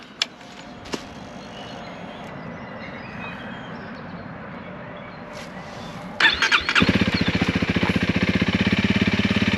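After a few clicks and a whirring starter, a 2025 Honda CRF300L single-cylinder motorcycle engine fires up and settles into a loud, thumping idle nearby.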